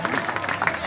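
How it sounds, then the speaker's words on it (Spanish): Crowd applause at a Canarian rural arrastre (cattle dragging) event in La Laguna, Tenerife, a dense wash of clapping lasting under a second, with voices mixed in. "Aplauso enorme para él"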